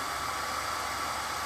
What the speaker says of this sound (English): I've got the hair dryer running here.